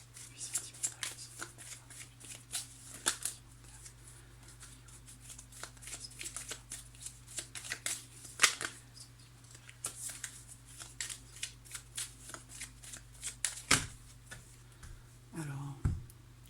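Tarot cards are shuffled and cut by hand, giving a close, continuous run of crisp riffling flicks and taps with a few louder snaps near the end, and a voice sounds faintly in the background.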